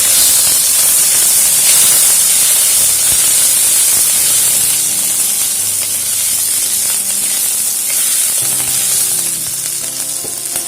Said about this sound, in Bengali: এর মধ্যে দিয়ে দিচ্ছি গোটা সাদা জিরে আর দিচ্ছি গ্রেট করে রাখা আদা। আদাটাকে একটু ভেজে নিচ্ছি।